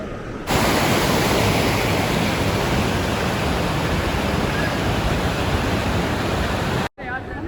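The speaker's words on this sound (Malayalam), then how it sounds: "അങ്ങോട്ട് നോക്കിയേ വെള്ളം വീന്നാണെന്നുണ്ട് നിങ്ങൾ ഇതാ എന്നാ എത്രയോ ഉയരത്തിൽ നിന്നാണ് താഴത്തേക്ക് വരുന്നത്" A waterfall plunges from a great height down a steep mountainside near Manali, making a loud, steady, broadband roar that fills the whole clip, with a brief dropout near the end.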